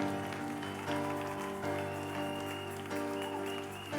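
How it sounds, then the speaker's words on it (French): Church congregation clapping and cheering together in a steady, dense wash, with sustained keyboard chords carrying underneath throughout. "Acclame très fort, acclame."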